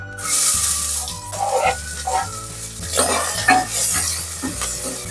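Sliced onions and curry leaves sizzle in hot oil with cumin and mustard seeds for a jackfruit seed curry, loud crackling frying close up, with a spoon stirring and scraping the pan in bursts.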